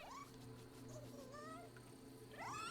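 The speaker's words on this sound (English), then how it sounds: "We have a cat" A cat companion in the video game Nioh 2 meows twice, rising cries at the start and end over a low, steady game background hum, fairly faint.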